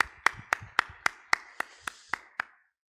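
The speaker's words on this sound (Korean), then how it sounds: "감사와 영광의 박수 올려드리겠습니다" A church congregation claps in a slow, evenly spaced rhythm, about ten sharp claps roughly a quarter second apart, moderately close, then it stops abruptly into silence.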